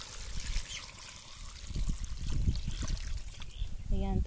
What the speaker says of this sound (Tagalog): Yan, lalagyan natin ng tubig.